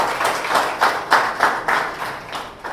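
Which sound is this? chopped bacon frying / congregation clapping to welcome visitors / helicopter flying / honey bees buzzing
congregation clapping to welcome visitors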